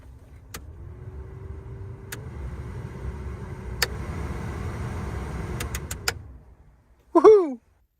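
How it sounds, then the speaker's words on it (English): Electric cooling fans in a Mazda 121 start after a click, ramping up to a steady whirring motor hum punctuated by sharp clicks, then cutting off before a brief, high squeaky exclamation. "Okay, ignition is on. Moment of truth. That will be fans."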